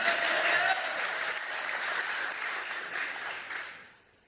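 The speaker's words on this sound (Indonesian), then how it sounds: "Jadi tepuk tangan dulu yang meriah buat kalian." A Christian congregation at a church gives loud, enthusiastic applause, a dense and continuous wash of clapping that holds steady and then fades out toward the end.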